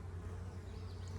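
Honey bees buzz around a hive in a steady low hum, close and continuous, with no other sounds over the drone.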